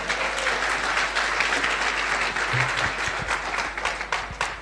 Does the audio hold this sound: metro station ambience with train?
no